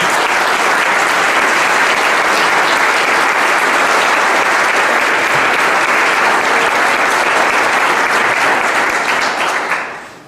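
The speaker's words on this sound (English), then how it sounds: "I want you to join me in giving Merle a round of applause and celebrating his career" An audience at a 2019 State of the City address gives a long, loud, sustained round of applause celebrating Merle's career, dense and even before fading out at the end.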